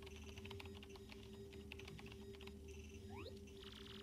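Quick, clattering keystrokes on a keyboard in Paper Mario: The Thousand-Year Door, over a steady hum of game music with a few rising electronic chirp tones near the end.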